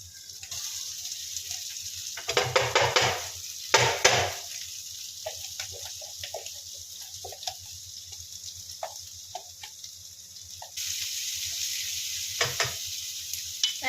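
Ginger, garlic and green chillies sizzle in hot ghee as a tadka. Two loud bursts of spitting hiss come early on, then the frying settles into a steady, quieter crackle with scattered pops.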